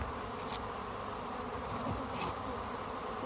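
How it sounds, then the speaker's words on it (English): A dense, continuous buzzing of honeybees swarming at vents on a Serra Mesa roof during a live bee removal, steady and close throughout with no pauses. "the bees just start marching"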